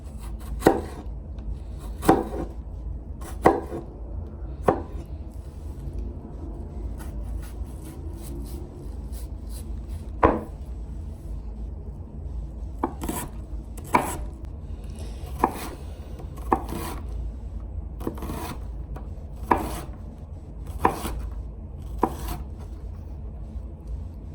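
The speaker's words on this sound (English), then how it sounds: "Okay, onion has been diced" A knife dices an onion on a cutting board, close and distinct, as a long run of sharp chops in quick bursts and steady single strikes with short pauses between them.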